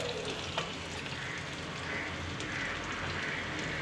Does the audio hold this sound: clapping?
no